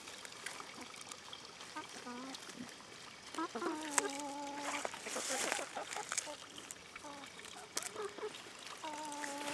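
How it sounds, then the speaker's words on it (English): Chickens cluck in short bursts around a backyard compost pile, with trickling water and a nearby voice talking over them. "Let me show you how the chickens like this stuff here."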